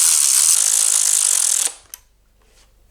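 Powered ratchet or driver whirring as it runs down LS3 engine head bolts, a loud bright buzzing burst for under two seconds that cuts off, leaving a couple of faint clicks afterward.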